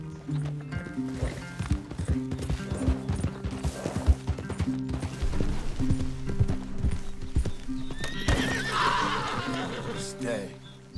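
Horses in the Red Dead Redemption 2 video game clop their hooves and whinny, with rhythmic hoofbeats throughout and a neigh near the end, mixed with game music and character voices talking.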